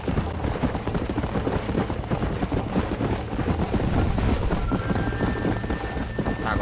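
Horse hooves clip-clopping at a steady, rapid gallop in the video game Red Dead Redemption, a dense rhythmic beat under a rumbling, stormy background, with a thin tone rising in midway.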